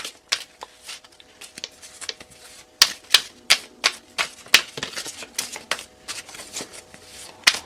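Tarot cards being shuffled by hand in a quiet room: a rapid run of crisp, dry flicks and taps, irregular but continuous for several seconds, close and fairly loud, with no voice over it.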